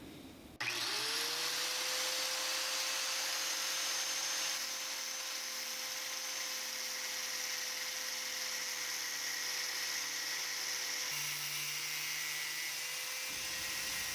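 Angle grinder mounted on a stand cutting through a metal profile held in a vise, a loud steady high-pitched whine with grinding hiss that runs continuously for about thirteen seconds after a sharp start, then cuts off.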